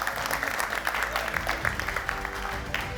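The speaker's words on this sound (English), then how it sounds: "Please give them a round of applause, really big as well." An audience at a packaging innovation award ceremony gives a dense, continuous round of applause, many hands clapping close together with some crowd murmur.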